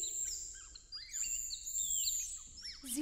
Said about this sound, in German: Hören Sie die Vögel?